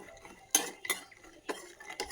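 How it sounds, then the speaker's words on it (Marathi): Makhana fox nuts frying in ghee are stirred in a pan, giving several sharp metallic clinks and scrapes of a spoon against the pan over a faint sizzle, close and quiet without talk. "1 वाटी मखाना टाकू आणि तो आपण चांगला फ्राय करून घेऊया"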